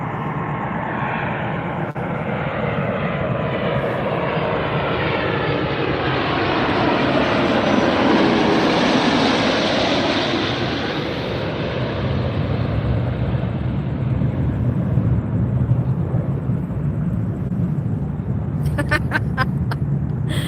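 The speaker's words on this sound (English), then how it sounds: "this is our Hawaiian Airlines A330" Hawaiian Airlines Airbus A330 arriving at Las Vegas airport, its jet roar building and sweeping past loudly around the midpoint, then fading into distant rumble with faint traffic noise.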